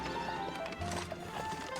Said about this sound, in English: Oh look, there's a horse.